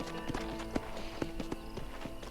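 Horse hooves clip-clop at a steady gallop in the Western video game Red Dead Redemption, a rhythmic series of thuds set against a sunset ride past a fort, over a bed of game music.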